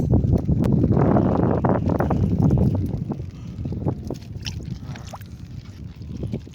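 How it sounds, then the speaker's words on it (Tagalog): Gusty wind buffeting the microphone in strong low rumbles, easing after a few seconds, with faint knocks and rustles behind. "Mahangin na."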